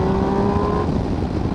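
A middleweight sport touring motorcycle accelerates hard, its engine note climbing steadily as it revs out, loud and close throughout with steady rushing wind noise underneath.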